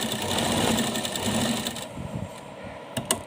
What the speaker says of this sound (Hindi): इस तरह से हम सिलाई लगाएंगे